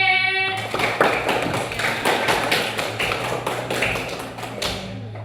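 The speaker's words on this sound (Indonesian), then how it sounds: "Tepuk tangan untuk Andre" A classroom of students claps for a classmate, a dense run of sharp hand claps at fairly steady rhythm, loud and close, lasting several seconds without talk.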